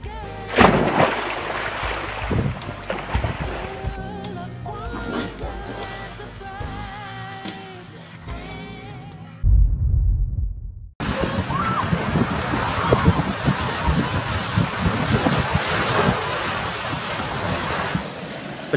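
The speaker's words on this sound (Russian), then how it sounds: "Обдувает ветерок. Прекрасное море." Sea waves washing onto Tigaki beach on Kos with a breeze buffeting the microphone, a steady broad surf roar with wind gusts, briefly cut by a near-silent gap before the rushing surf resumes.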